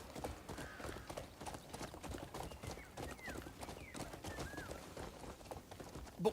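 Horse hooves clip-clop at a steady walking rhythm in the open-world video game Crimson Desert, close and clear, with faint bird chirps and occasional whistle-like calls over the top.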